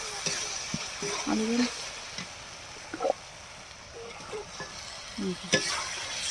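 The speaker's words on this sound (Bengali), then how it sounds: "এবার ভালো করে মশলার সাথে কষিয়ে নেব।" Boiled potatoes fry in a spice paste in a pan while being stirred, a soft steady sizzle broken by scattered scraping spoon strokes, close and fairly quiet, with no voices.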